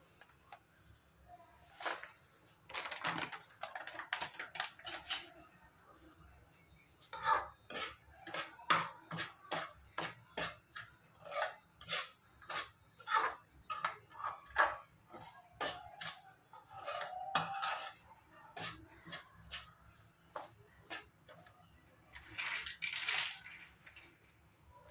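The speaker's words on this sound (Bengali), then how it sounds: "এই কড়াইটাতে এখন সুজিটা দিয়ে দেব, ঘি পরে দেব।" Semolina roasting in a kadai for laddoos, a metal spoon scraping and stirring in a run of quick rasping strokes, some clinks against the pan, with brief pauses and faint low hum underneath.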